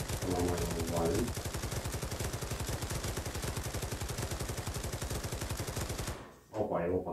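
Sustained rapid machine gun fire in a VR shooter game, a dense unbroken stream of shots for about six seconds that cuts off abruptly, followed by a short burst of talk.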